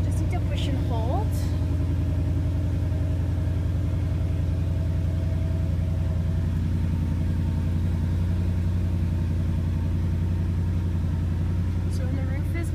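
A 2014 Ford Mustang GT convertible V8 idles with a steady low rumble for the whole stretch, and a few faint squeaks and clicks sit on top of it.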